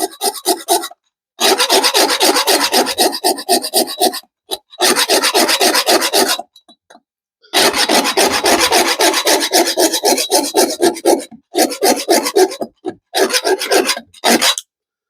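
A metal cutting blade saws in long rasping bursts, several strokes separated by short pauses, each bout loud, close and gritty, with no voices present.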